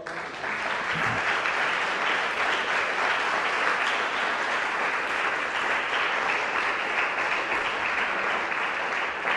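A crowd at a church service claps steadily and fairly loudly throughout, a dense, continuous wash of applause with no pauses.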